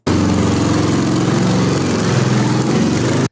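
A custom-built motorcycle, originally a Ural, runs loud and close with a constant buzzing engine drone that lasts about three seconds and has no talking over it.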